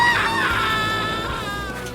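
A scream from the video game 007 Legends rings out as a sustained, high, wavering cry that slowly fades, sounding strained and anguished.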